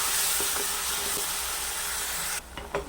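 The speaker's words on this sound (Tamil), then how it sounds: "இஞ்சி பூண்டு வெங்காயம் பேஸ்ட்டாக அரைச்சி வச்சோம்ல, அதை போட்டுக்கலாம். நல்லா வதக்கி விட்டுக்குருவோம்" Ginger, garlic and onion paste sautés in a hot pan for a chicken curry, giving a steady, close frying sizzle and hiss that fades slightly near the end, with a few light stirring knocks.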